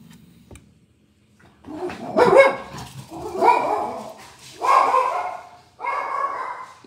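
A small pet dog barks in several bursts at a passing neighbor jogging with her dog, close and fairly loud, with short pauses between the barks.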